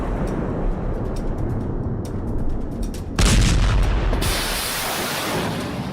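A missile strike explodes near a US Navy warship off Jask. A continuous heavy rumble is broken by a sudden loud, deep boom partway through, followed by a roaring blast that slowly fades.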